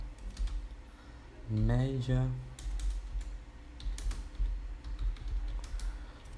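Rapid keyboard typing clatters close by in irregular bursts, with a single spoken word partway through.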